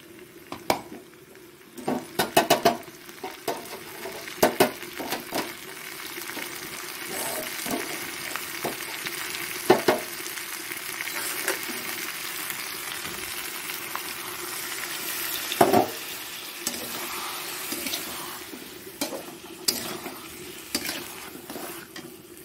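Ground spices with a splash of water in a frying pan, sizzling steadily while a utensil scrapes and stirs against the metal in irregular clinks and knocks, close and continuous with no voices.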